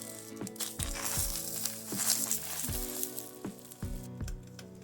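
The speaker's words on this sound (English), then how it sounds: "Fry evenly on all sides." Egg-dipped lavash tortilla rolls fry in a dry pan, giving a steady close sizzle broken by repeated knocks as the rolls are turned, with no voices.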